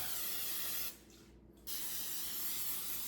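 A steady hissing spray of olive oil from a pump sprayer runs close up, stops briefly, then resumes in continuous misting bursts.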